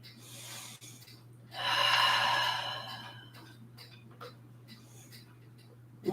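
A single deep breath drawn and released slowly in a quiet room during a yoga flow, a strong airy exhale that swells and fades, followed by softer breathing.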